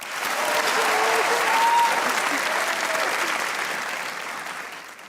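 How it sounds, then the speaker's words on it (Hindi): A studio audience at a comedy talk show claps together, the applause swelling quickly, holding steady and full, then slowly fading, with faint voices mixed in. "तालियां बजाएं।"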